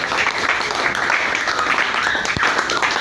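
A church congregation applauding Jesus, with dense, steady clapping that holds loud throughout, the crowd's noise blending into a continuous wash.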